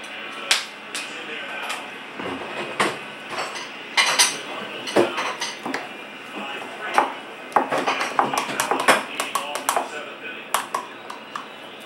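A child mixes with a spoon in a bowl, making irregular clinks, taps and scrapes of metal on the dish, close by and mixed in with ongoing talk.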